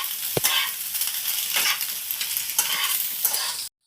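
Egg stirred in a hot frying pan for Maggi pasta, a steady crackling sizzle with a few scraping utensil strokes, continuous and fairly close, no voices.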